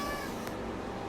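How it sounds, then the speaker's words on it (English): A pet cat gives a single short meow close by, heard over a steady low background hum. "Sorry, that's my cat."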